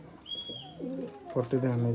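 Soft throaty coos of high-flyer pigeons in a loft repeat at close range, layered with a few brief higher bird calls and faint background murmur.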